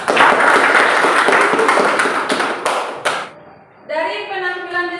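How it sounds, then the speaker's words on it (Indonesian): A classroom of schoolchildren clapping for all the groups, dense close applause for about three seconds that fades out, followed by a teacher beginning to speak. "Tepuk tangan untuk semua kelompok."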